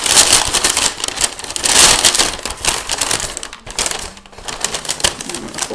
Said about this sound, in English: So I'm going to put my old magazine pages in here. I'm just going to crumple them up